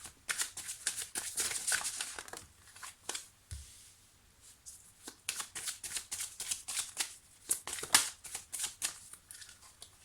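Tarot cards being shuffled and turned over, in quick bursts of riffling and flicking separated by short pauses, soft and close, with no talk.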